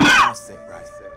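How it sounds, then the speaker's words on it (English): A single short, close cough or throat-clear bursts out loudly, then trails off into quiet. "Ooh, little cough."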